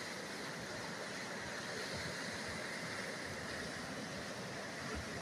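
The flooded Galogavra stream in Tyrnavos sends water rushing into the town square, a steady, dense broadband roar with no breaks, fairly distant and even throughout.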